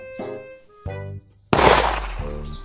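Burst of gunfire sound effect in a Kashmiri drama about 15 August, a loud crackling blast breaking in between sustained musical tones, close and dominant.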